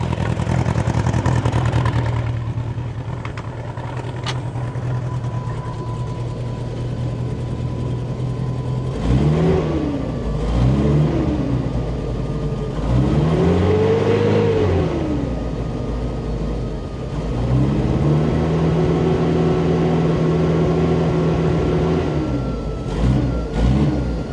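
A Bombardier snowcat engine fitted with a Holley Sniper 1100 throttle body, running after a manifold leak fix, revs up in several rising and falling blips over a steady idle, loud and close, with a slightly loping rhythm.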